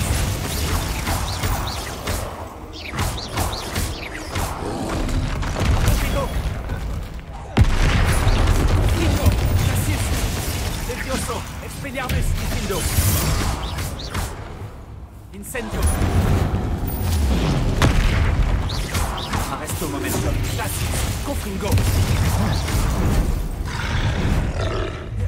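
Confringo explosion spells in the Hogwarts Legacy video game go off as repeated loud booms and rumbling blasts amid chaotic combat noise, under someone talking over them.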